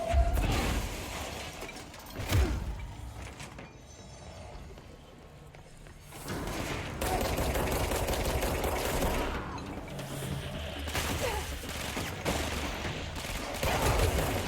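Dense bursts of gunfire from the video game Control, in its AWE expansion. Volleys of rapid shots and impacts arrive in waves across the clip, loud and close, with a brief quieter lull in the middle.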